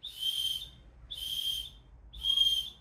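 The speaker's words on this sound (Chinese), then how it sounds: "係有一個哨子嘅，可以喺緊急時候發出求救信號嘅" A red emergency whistle clipped to the sternum strap of a lightweight 30-litre backpack gives three shrill, evenly spaced blasts, each about a second long, close and loud with no one speaking.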